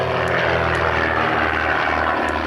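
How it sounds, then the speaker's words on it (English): Propeller aerobatic aircraft flying close formation at the 1992 RAF Coningsby airshow give a loud, continuous droning engine roar, steady throughout with no talk. "you see the two wingmen half roll, right side up, resume the Vic, and complete with Michael in inverted"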